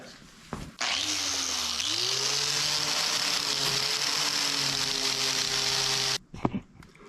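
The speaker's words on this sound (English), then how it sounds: "this is just after some 120 grit sandpaper on the old palm sander" An old palm sander fitted with 120 grit sandpaper works across a truck roof, starting abruptly and holding a loud, steady buzzing whine for about five seconds before cutting off, with a few clunks around it.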